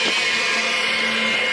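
A blender runs steadily on high power, emulsifying mayonnaise, with a loud, even whirring drone and no break across the short stretch.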